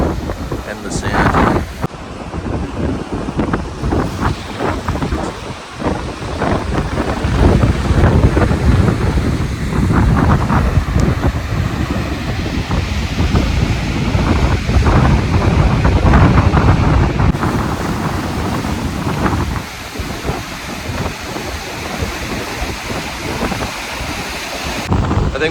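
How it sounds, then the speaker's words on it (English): Gusty wind buffets the microphone on a Lake Erie beach while choppy waves wash and break against the sand and rocks, a continuous roaring rush throughout. "See how the waves are crossing kind of here. It's sort of choppy."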